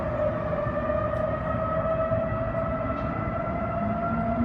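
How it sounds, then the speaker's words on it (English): A steady, sustained wail of Dallas civil defense sirens, many sounding at once after a hack, with layered tones holding constant throughout, loud and droning with no breaks. "Hackers got into the emergency notification system in Dallas and set off 156 sirens."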